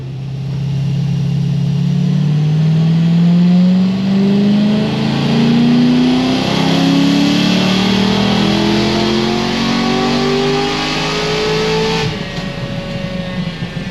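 A tuned car on a dyno makes a sustained power pull, the engine note climbing steadily in pitch for about twelve seconds before cutting off abruptly, loud and close with no talking.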